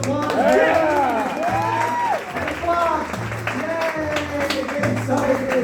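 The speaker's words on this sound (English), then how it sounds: "Give her a round of applause." An audience claps and whoops during a game show, with applause and cheering mixed under a voice and some rhythmic thumping beneath.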